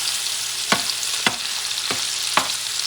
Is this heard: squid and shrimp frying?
yes